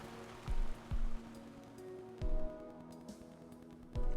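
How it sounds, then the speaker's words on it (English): Quiet rain patters continuously in the video game Psychopomp Hospital, a faint even wash behind soft tonal music and several dull, thudding knocks. "The rain is oddly soothing"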